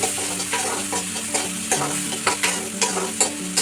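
Tomato masala frying for an ivy gourd curry, close, continuous sizzle broken by regular scraping strokes of a spoon, about two or three stirs per second.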